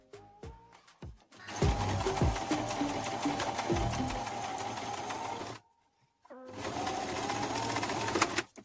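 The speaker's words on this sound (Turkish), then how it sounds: "ve tekrar dikiş payından dikmeye devam" A sewing machine stitches seam binding on fabric, running in two steady, loud bursts with a brief pause between them and a few slow needle clicks at the start.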